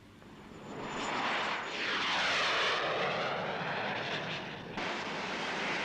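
A MiG-21 fighter jet roars past, its engine swelling to a sustained loud whoosh with a sweeping Doppler tone before holding steady, heard alone with no talk.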